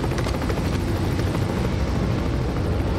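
A helicopter in a movie scene gives off a loud, continuous rotor chop with dense thumping that fills the whole stretch.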